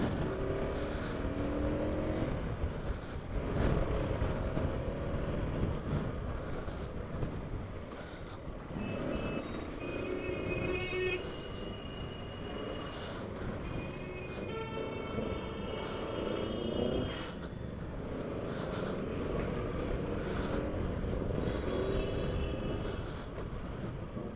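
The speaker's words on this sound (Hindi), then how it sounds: "आई डोंट नो कौन सी बाइक है पीछे से, कुछ समझ नहीं आया, बट ये एग्जॉस्ट" Motorcycle exhaust from a Yamaha R3 riding behind, a steady loud engine roar with rising and falling revs and whining tones running through the whole stretch amid road noise.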